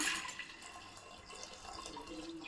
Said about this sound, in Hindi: गरम पानी कर देइछि, गरम पानी ऐड करवा।